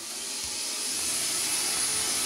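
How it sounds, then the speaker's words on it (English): A vacuum cleaner runs close by with a steady, loud airy whine and broad hiss that holds level throughout. "Excuse the vacuum."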